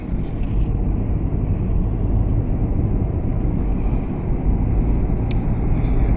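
Car turning on a road near an old palace in Taif, Saudi Arabia, heard as a continuous loud low engine rumble and road drone from inside or close by, steady throughout with no talk.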